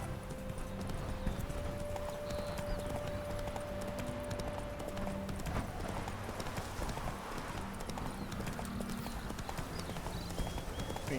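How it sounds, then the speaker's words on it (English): Horse hooves clip-clopping steadily in Witcher 3, a continuous rhythmic trot under ambient game sound and a faint tonal hum, moderately loud and close. "Convenient horse is convenient."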